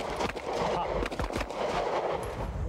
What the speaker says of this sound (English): We're doing the fundamentals in shooting.